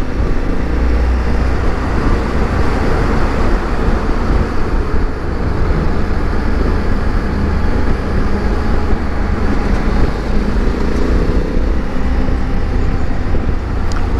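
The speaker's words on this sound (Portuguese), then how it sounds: "Moto muito gostosa de andar." Honda Africa Twin Adventure Sports 2024 motorcycle riding on the road, with a loud continuous engine drone and heavy rushing wind buffeting throughout, steady and close, with no voices.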